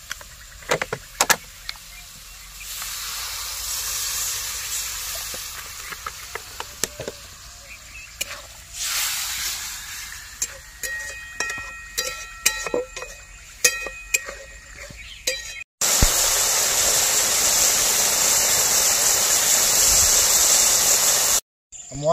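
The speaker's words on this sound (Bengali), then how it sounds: "এবার আমি একটু জল দিয়ে দিচ্ছি।" Water poured into a hot pan of cooking spices and salt for a Bengali curry sets off a sudden loud, steady hiss that lasts about six seconds, following quieter kitchen clatter and scattered clinks.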